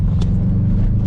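A car's engine rumbles steadily close by on a mountain road, a low continuous drone with no clear pass-by.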